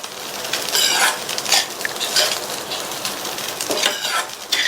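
Aval upma with potato being stirred in a pan over a low flame, a steady scraping and clinking of a spoon against the pan with a light sizzle, close and continuous.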